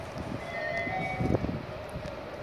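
Istanbul metro train running on double-track rails over the Golden Horn, a steady rumbling roll with clattering rail noise and faint tonal squeals, moderately close.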